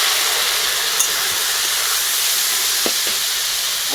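Greens fry in hot oil with chili and black cumin, giving a steady, loud sizzling hiss throughout, with a few faint clinks.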